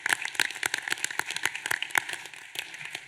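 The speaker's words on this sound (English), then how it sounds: "So a round of applause for Ivy Tech and everyone." Audience at a jail overcrowding task force meeting clapping, a short burst of distinct, fairly sparse hand claps close by that thins out toward the end.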